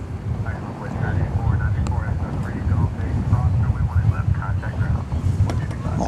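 A plane arriving from Houston Hobby lands at DFW Airport, its engines a steady, loud, broadband rumble with wind buffeting the microphone throughout.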